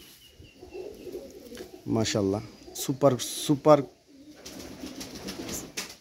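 Low, soft cooing of Insan Salara pigeons runs throughout, partly masked as someone talks over it in short bursts.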